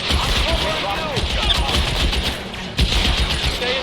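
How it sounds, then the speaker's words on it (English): Gunfire from the LA Noire video game comes as a rapid run of sharp shots and bursts, loud and close, with someone talking over the shooting. "I'm missing all my shots."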